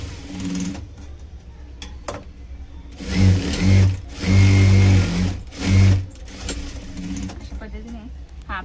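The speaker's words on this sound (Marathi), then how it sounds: "डबल स्टिच आपल्याला करून घ्यायचं आहे फिटिंग मार्किंगसाठी." A sewing machine runs in three short bursts of loud, rapid whirring as it double-stitches a blouse. A voice talks in the stretches before and between the bursts.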